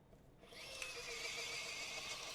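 Miniware ES15S electric screwdriver tightening a screw, its small motor whirring up after a brief start and running steadily with a high whine, close and alone.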